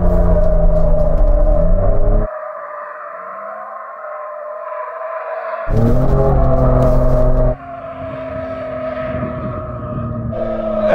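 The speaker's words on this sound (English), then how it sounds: "Sam thinks he can drift that Raptor." A Ford Ranger Raptor pickup's engine roars and revs hard in sustained loud waves, dropping to a lower drone then surging again as it drifts to warm its tyres, with no voices over it.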